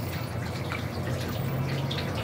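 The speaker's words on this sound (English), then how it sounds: "I'm gonna pour the 1 1/4 cups of water." Water poured into a pan of heating sugar to make simple syrup, giving a loud continuous splashing pour with bubbling and sizzling texture and no talk.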